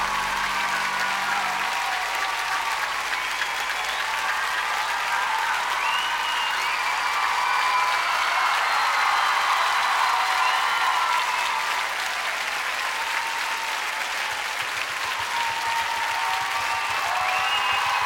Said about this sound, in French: Avant vos applaudissements, qui me vont droit au cœur comme d'habitude